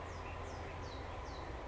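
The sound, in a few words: birds chirping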